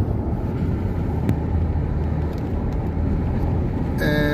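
Car driving on the road to Ensenada, a steady low rumble of engine and tyre noise heard from inside the cabin, continuous and fairly loud, with a short electronic chime near the end.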